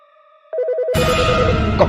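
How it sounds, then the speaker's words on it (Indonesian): A cartoon telephone rings in a dark, eerie office at night, a brief electronic trill that starts softly and then jumps into a loud, buzzing ring that continues steadily. "Telepon. Wah, makin aneh aja nih. Angkat jangan ya."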